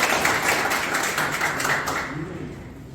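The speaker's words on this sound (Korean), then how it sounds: "박수 한번 부탁드리겠습니다" Audience clapping at a People Power Party campaign committee appointment ceremony in Gyeryong for presidential candidate Kim Moon-soo, a steady dense patter of many hands that fades toward the end.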